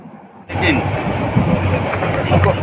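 A long passenger train with many carriages runs from Dhaka toward Cox's Bazar, heard from inside as a loud steady rumble and rattle starting abruptly, with faint clatter throughout.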